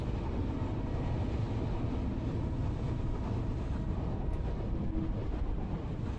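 Electric Chennai Beach to Tambaram fast local train pulling into platform 3 at Guindy station in Train Simulator (Railworks 3): a steady, loud, low rumble of rolling wheels with no clear breaks.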